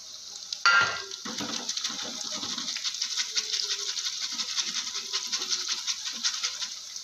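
Khasta goja dough dropped a little at a time through a mould into hot oil over a high flame, giving a sudden sizzle that then holds as a steady, close, crackling fry, with no talk.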